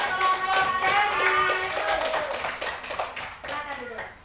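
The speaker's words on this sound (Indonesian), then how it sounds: "Beri tepuk tangan untuk kelompok Cherry." Classroom applause for a student group after their presentation, a burst of near, scattered hand claps lasting several seconds with voices talking over it.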